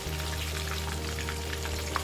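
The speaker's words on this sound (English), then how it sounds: "The fish has been frying for 2 minutes on the other side." Tenggiri fish pieces sizzling in hot oil after being flipped, an even bubbling crackle with a faint pop near the end, close and alone.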